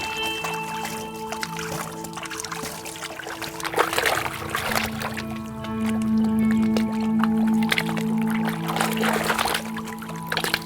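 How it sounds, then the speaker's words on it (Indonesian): Water is poured slowly into a gold panning pan, making a soft trickling and splashing that rises and falls against a faint background hum. "Siram pelan-pelan."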